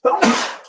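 One sharp sneeze bursts out close and loud indoors, a quick intake followed by a hissy expulsion that fades within a second.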